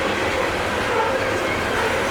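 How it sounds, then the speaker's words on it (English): Loaded CSX coal freight train passing in Maryland, a loud continuous roar of rolling cars and wheels on rails, steady throughout at close range. "This is a pretty big coal train."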